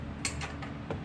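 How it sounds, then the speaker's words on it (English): Torque wrench clicking as it reaches tension on a Katech belt tensioner for a Trans Am, a few quick, faint mechanical ticks within about a second over a low background hum. "when you hear the torque wrench click, right there, that's the tension"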